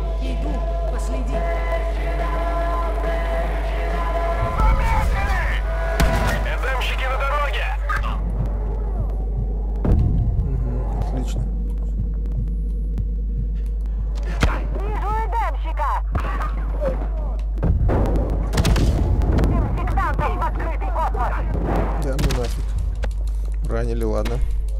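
Explosions and gunfire in the video game Far Cry 5, with sharp bursts at scattered moments over a steady low hum, mostly heard beneath people talking.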